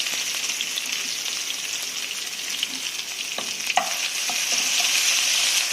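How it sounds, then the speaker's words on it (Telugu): Ginger garlic paste fries in hot oil in a kadai, producing a steady bright hiss with a few scattered spoon clicks and scrapes; the sizzle holds constant and close, with no one talking. "దీనిలో అల్లం వెల్లుల్లి పేస్ట్ వేసుకుని ఫ్రై చేసుకుందాం పచ్చివాసన పోయే వరకు"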